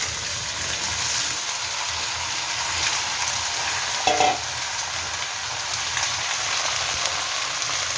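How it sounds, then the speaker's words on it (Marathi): Mixed vegetables sizzle and fry steadily in hot oil tempered with spices, close and continuous, with occasional stirring clinks and no talking. "तर हे 1 मिनिटभर चांगलं छान परतून घ्यायचं पहा"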